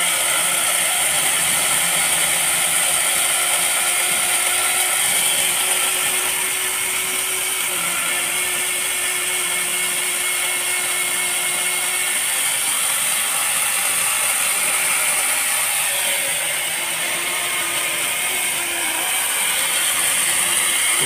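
Motorised saw cutting through wood outdoors, a continuous loud mechanical whine and rattle that holds steady for about twenty seconds with only slight dips in intensity.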